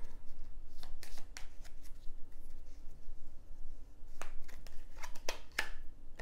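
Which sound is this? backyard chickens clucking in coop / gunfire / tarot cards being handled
tarot cards being handled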